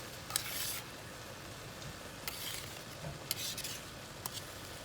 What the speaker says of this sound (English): I'm going to take a spoon and just scrape it on out of there